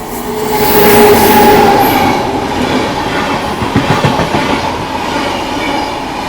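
Express train running at speed on rails, a loud continuous rumble with rhythmic clickety-clack of wheels over joints building in the second half, no voices.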